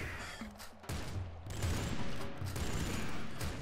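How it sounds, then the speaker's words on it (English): In the Nuclear Throne video game, a boss lets loose a rapid barrage of explosive shots, a dense run of overlapping bursts and blasts that is loud and busy throughout. "crazy barrage of explosive shots that he does"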